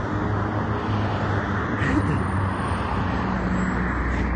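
A loud green car passes in busy street traffic, its engine a constant close rumble that swells slightly midway, over a dense wash of road noise with no speech.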